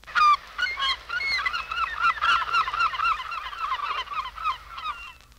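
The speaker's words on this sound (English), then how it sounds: "herring gull." Herring gull in New York City calls in a rapid, loud series of harsh, honking cries, close by and continuous for several seconds before trailing off.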